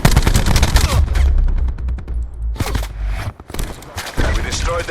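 Gunfire in the shooter Black Ops 4, loud close rapid bursts of automatic fire with sharp individual shots, broken by short pauses and a few separate blasts.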